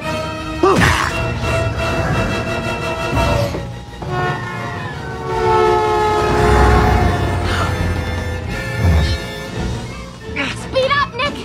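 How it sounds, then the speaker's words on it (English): A train passes close by with a loud, rumbling roar and sustained horn-like tones, over chaotic crashing sounds and people shouting. "There's another train coming!"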